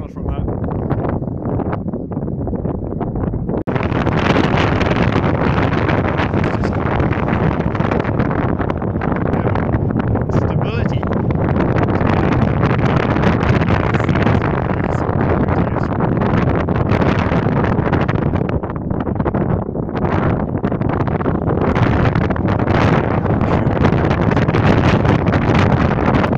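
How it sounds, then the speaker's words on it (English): Strong, turbulent wind buffets the microphone across an open kite-testing field where a lift kite is flown on a tether, a loud continuous roar that rises after the first few seconds and stays heavy throughout. "Turbulent wind field today."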